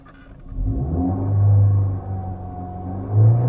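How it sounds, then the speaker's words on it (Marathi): A petrol family car engine cranks and catches, then settles into a steady low idle nearby, with a brief rev rising near the end and no voices over it. "मी आता चालू करतो आणि इंजिनचा आवाज तुम्ही नोटीस करा"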